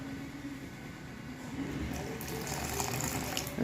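Plain water being poured into flour for kneading dough for peas kachori, a faint steady trickle that grows into a brighter splashing pour over a quiet kitchen background.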